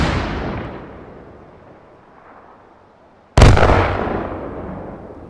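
A single loud cannon blast in the VR shooter H3VR, fired on a 4th of July theme with an impact grenade and C4 packed in the bore, hits sharply after a fading rumble from an earlier boom and then rolls off in a long decaying tail.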